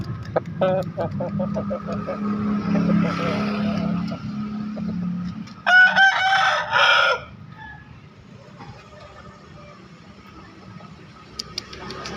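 Roosters crow repeatedly at a chicken market, with one loud, close crow standing out amid the din of traffic and vendors talking in the background.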